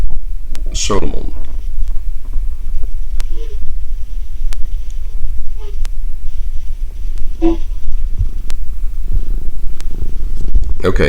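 A pet cat purrs in a room, a steady low rumbling under ongoing talk, with a few brief louder voice bursts and small sounds along the way.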